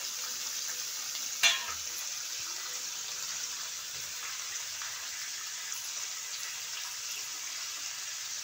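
Pieces of mushi fish, a small shark, sizzle in hot oil in a pan with a steady, fairly quiet hiss and a single sharp clink early on.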